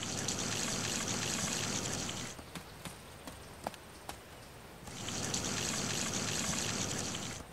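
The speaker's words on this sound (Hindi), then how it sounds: "मिल गया पानी, पानी डालते हैं" Water pours in a village management game as a steady, bright trickling stream that stops midway, leaving a few soft clicks and taps, then resumes pouring at the same level.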